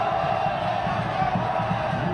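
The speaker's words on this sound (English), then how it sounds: "listen to the roar as they get out there" A rugby crowd roars as the home side comes out for a European Challenge Cup semi-final between Connacht and Toulon, a dense, loud, sustained wall of cheering with no break.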